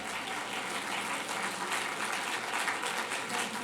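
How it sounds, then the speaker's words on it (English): An audience applauds after a set of evening health talks, a dense, steady wash of clapping at moderate distance that fills the whole stretch without speech. "I want to have another round of applause for our speakers."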